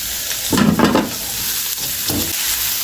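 Peppers stir-frying in a very hot pan, a loud burst of sizzle as they hit the pan, with a quieter second flare of frying and stirring afterward over a steady background hiss.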